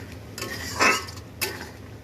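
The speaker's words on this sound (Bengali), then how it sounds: "এটাকে ভালো করে একটু কষে নিচ্ছি।" Spiced potato and pointed gourd being stirred in a pan, with two brief scraping clinks of a utensil against the metal, the second shorter, over faint low kitchen hum.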